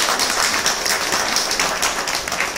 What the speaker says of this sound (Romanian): vă rog să-l aplaudăm